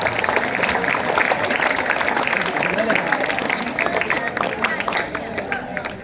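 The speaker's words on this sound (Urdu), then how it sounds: "عزیر علی، زوردار تالیاں۔" Applause from a school audience for a student at a Kashmir Solidarity Day event, with dense, steady clapping and crowd babble filling the whole stretch before easing slightly at the end.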